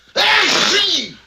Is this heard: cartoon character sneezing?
yes